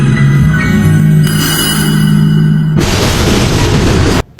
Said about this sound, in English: then she flatlines and her bomb goes off